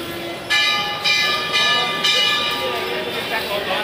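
A train passes at a railway in Patna with a loud, close rumble. Rhythmic surges roughly every half second suggest wheels over rail joints, with ringing metallic tones on top and a voice in the background.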